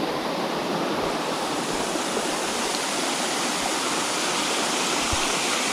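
A waterfall pours inside a cave, a loud, continuous hissing roar of falling water that fills the space evenly without pause or voices.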